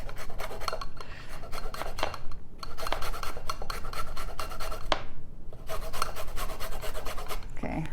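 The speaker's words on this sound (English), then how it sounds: "we're going to grate some lemon zest over it" Lemon zest grated with a zester over a low-carb strawberry dessert, rhythmic raspy scraping strokes close up, repeated in quick bursts with brief pauses.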